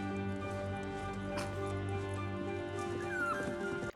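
A dog whimpers and gives small yips in a TV drama scene, set against a steady layered music or ambient bed, with the faint cries rising briefly and no clear speech.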